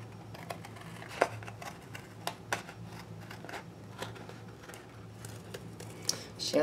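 Scissors snip through a dried fabric collage cutout in a quiet room, a series of soft, close crisp cuts and light paper-like rustles spaced irregularly, with no talking.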